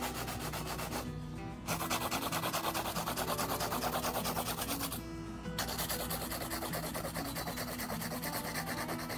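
Fingernails being hand filed during a nail appointment with curve tips, a steady rapid rasping scrape that runs close and continuous, with two brief pauses between strokes and a faint hum underneath.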